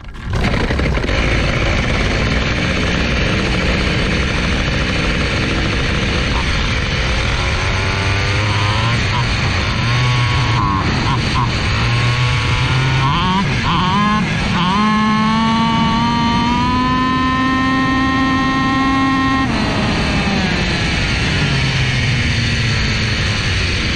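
A small water-cooled Sport engine screams at very high revs during a ride, loud and continuous, its pitch climbing and sweeping up and down as the throttle opens and eases, with wind rush throughout.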